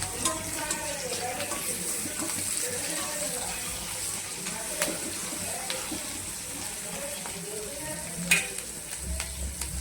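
Green chillies frying in a pan, with a steady soft sizzle and occasional stirring clinks, under a quiet background voice.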